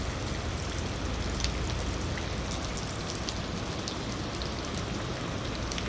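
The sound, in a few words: rain falling at a cow shelter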